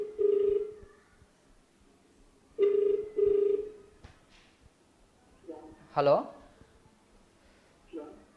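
A mobile phone ringback tone sounds in two-part bursts, repeating twice with pauses, then a person speaks briefly between and after the rings.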